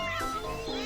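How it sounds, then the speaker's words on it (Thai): A cat-like meow from a creature in the game CHKN: one short, close, moderately loud cry that bends in pitch, heard alone. "ได้ยินเสียงแมวที่ไหนร้องเนี่ย"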